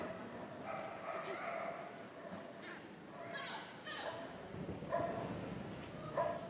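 A working Cocker Spaniel at a Crufts agility run gives several short yips and barks in bursts, mixed with arena crowd noise and a commentator talking over it.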